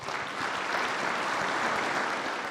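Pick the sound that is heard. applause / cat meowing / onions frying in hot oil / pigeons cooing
applause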